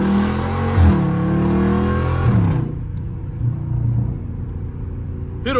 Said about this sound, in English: One of the downshifting POVs in a loud SCAT.